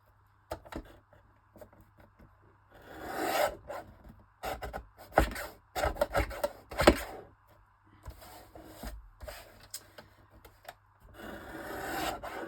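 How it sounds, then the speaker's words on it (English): A guillotine cutter trims the excess off a stack of postcards, with bursts of close rasping slides and cuts separated by short quiet gaps, clicks and handling noise, and no talk. "I'm gonna cut off the excess of these by using my guillotine cutter"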